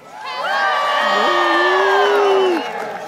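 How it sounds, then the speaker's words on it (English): A big zoo crowd, adults and children together, cheers and shouts a loud greeting in one sustained swell of voices that rises quickly, holds for about two seconds, then fades. "let's give Vince a great big hello"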